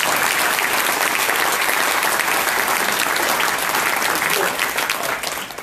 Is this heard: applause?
yes